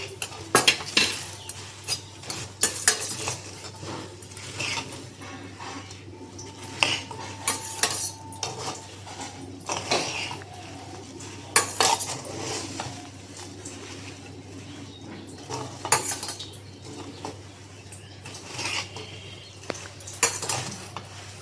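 Puffed rice being mixed with jaggery syrup in a pot for Joynagar moa, with steady scraping and clinking of a ladle against the pot, close and continuous, and brief louder knocks scattered throughout.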